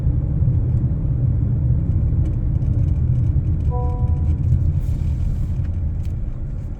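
A car drives along a road, giving a steady, close low rumble of engine and tyres that holds evenly throughout with no talking.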